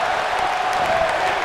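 An arena crowd in the wrestling game WWE 2K18 roars steadily for Bayley, a dense, continuous wash of cheering and applause without pauses.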